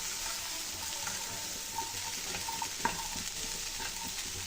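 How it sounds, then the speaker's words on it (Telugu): Boiled chickpeas being stirred into masala in a pan for a festival sundal, a steady soft sizzle with scraping spoon strokes and a few sharper clinks, fairly quiet and close, no talk. "ఈ ఉడకబెట్టిన శనగలు వేసుకోవాలండి బాగా కలుపుకోవాలండి"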